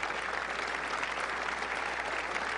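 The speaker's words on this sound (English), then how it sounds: "The applause is for Rod Laver and Bjorn Borg." Steady, dense applause from a tennis crowd at a 1977 semifinal match at Hilton Head honoring players Rod Laver and Bjorn Borg, continuous and even throughout with no voices over it.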